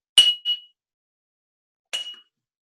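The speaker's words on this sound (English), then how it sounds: "see if you can hear the pitch going up when each jar is tapped" A glass jar partly filled with water is tapped, giving a bright ringing ping followed by a quick softer second tap, then a lone tap after a pause; short clear chimes in an otherwise silent room.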